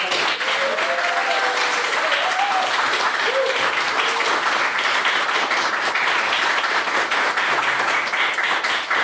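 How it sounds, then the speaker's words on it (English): An audience at an anniversary gala applauds two debaters with a sustained, even round of clapping from many hands, loud and close throughout, while a few faint voices and cheers sound beneath it. "please get a round of applause for Mr. Manning and Mr. McArdle for their performance in the night"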